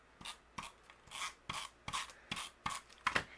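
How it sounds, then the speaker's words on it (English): Adhesive tape being pulled and pressed onto the back of a layered sunflower card, a series of about seven short rasping rubs and tearing strokes in a steady rhythm, close and fairly quiet, with no talking. "and then we can add some tape behind here."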